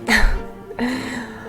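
Character coughing in the video game 60 Seconds! Reatomized, two short rough coughs, close and alone.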